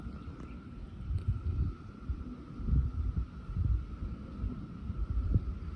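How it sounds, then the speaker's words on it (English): An indoor cat snuggled up close purrs in a low, soft, throbbing rumble, faint and continuous under a light background hum. "I don't know if you can hear her purring."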